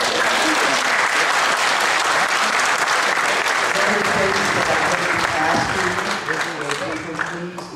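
Sustained audience applause fills a community college district board of trustees meeting, loud and dense throughout, with voices mixed in beneath the clapping and a slight fade near the end.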